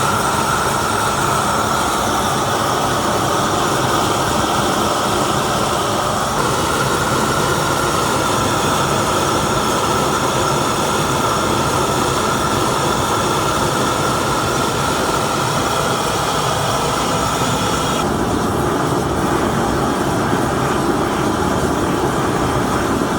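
A Brenner torch heating a seized rear U-bolt nut on a Cummins-powered 1973 Foden S80 lorry, making a loud, continuous roar that holds steady throughout.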